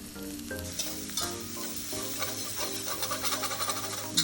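Green onions sizzling in butter in a pan for shrimp and grits, a continuous close hiss with bursts of crackle and clinking stir strokes throughout.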